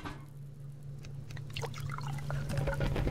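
Water being made or poured in the survival video game Subsistence, a soft trickling, dripping liquid sound that grows slightly louder over a few seconds over a low background hum.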